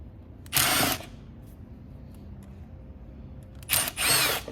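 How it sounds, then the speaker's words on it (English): A power tool backs out screws on the power switch cover of a Wagner Titan paint sprayer, giving three short, loud whirring bursts: one near the start, then two close together near the end, with quiet between. "Undo 4 screws."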